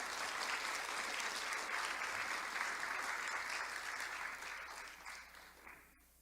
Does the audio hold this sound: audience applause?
yes